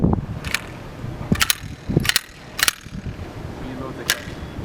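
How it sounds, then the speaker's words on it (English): A Glock pistol is unloaded with a series of sharp metallic clicks and clacks, several quick snaps of the slide and magazine over a few seconds, close up. "All we have to do is unload the gun,"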